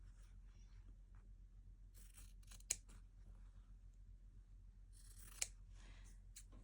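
Scissors cut a paper picture out for a fabric journal tag, making two short bursts of crisp snipping and rustle, each ending in a sharp click, close and quiet against a low background hum.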